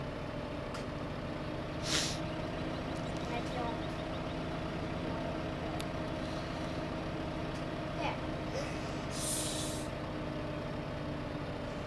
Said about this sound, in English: the seed bucket truck is going back up to the farm